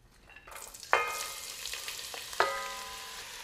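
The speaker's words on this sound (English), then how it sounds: "And that's the sound that you wanna hear when you're adding your veggies, which means that the oil is sufficiently hot." Mirepoix vegetables dropped into hot olive oil in a soup pot give two sharp bursts of sizzling about a second apart, then a steady crackling fry that stays close and fairly quiet, with no talking.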